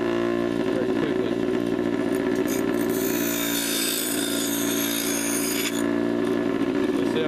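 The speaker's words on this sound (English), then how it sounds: "I'm going to straight grind first, and then I'll do the sharpening." A power grinder whirs steadily as it straight-grinds metal away on a sharpening guide, holding a loud, sustained high-pitched hum that rises in intensity midway through, with no voices.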